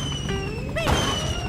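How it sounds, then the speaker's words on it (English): Fireworks burst in the Super Mario Bros. Wonder video game over layered musical tones, a single whooshing pop and boom rising out of steady game music. "They're fireworks!"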